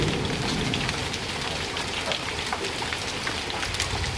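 Heavy rain and hail pour down hard on a home terrace during a power cut. The roar is dense, continuous and loud, with tiny crackling impacts of drops and hailstones throughout, and no voices.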